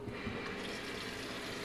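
Tap water running steadily into a container at a sink, readied for cooking homemade Japanese ramen; a continuous, fairly quiet splashing fill with no pauses.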